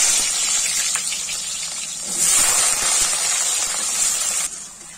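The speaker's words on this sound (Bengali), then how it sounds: "কড়াইতে তেল দিয়ে দিয়েছি, তেল গরম হয়ে গেছে, আলুগুলো ভেজে নেব।" Potatoes frying in hot oil in a wok, a loud continuous hiss and sizzle that swells partway through and then eases off at the end.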